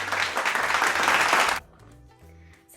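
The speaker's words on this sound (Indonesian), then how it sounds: "Ya, benar sekali. Tepuk tangan." Short burst of classroom applause from students during a physics lesson on Bernoulli's law, brisk and fairly loud for about a second and a half, then cutting off into a quiet room with faint low hum.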